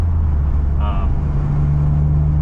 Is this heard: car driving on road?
yes